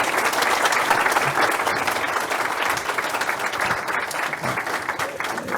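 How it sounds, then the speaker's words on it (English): A preliminary round of applause from the audience at a discussion event, loud and sustained clapping from many hands, even and continuous throughout. "Let's have a preliminary round of applause"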